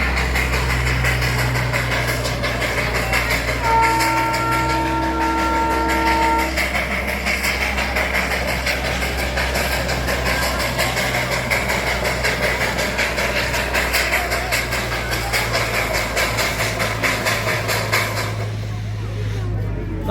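A Darjeeling toy train steam engine idles near the War Memorial, a steady low rumble and hiss with a brief steady horn-like tone early on, while people talk over it.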